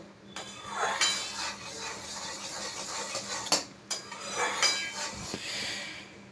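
A spoon scrapes and clinks against a pan while a ripe mango mixture cooks on a low flame, giving irregular metallic taps and stirring strokes with no talking.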